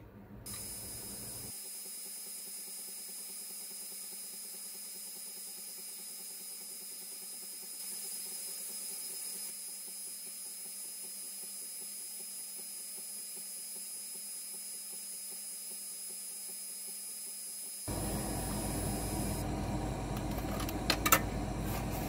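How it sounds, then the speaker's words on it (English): A laser engraver burning a digital business card produces a steady, faint hiss and whine that holds for many seconds, with a constant high-pitched tone and a rise in noise near the end. "let's burn one side and then we'll flip it over and get the other side"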